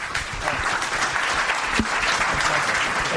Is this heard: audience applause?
yes